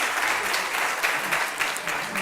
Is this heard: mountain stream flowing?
no